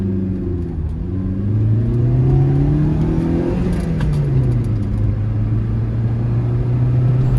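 A 12-year-old Maruti Swift VXI with about 130,000 km on it accelerates on CNG, its engine droning loud and close as the revs climb, shift, and settle into a steady rumble.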